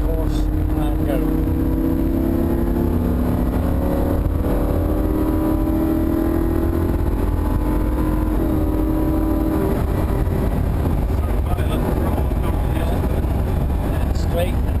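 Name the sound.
Lamborghini Huracan driving on race track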